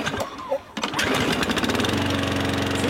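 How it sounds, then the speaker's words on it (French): A garden lawn mower starts up and keeps running with a loud, close, rattling engine drone that settles into a steady, throbbing tone. "Antoine, tu passes la tondeuse s'il te plaît"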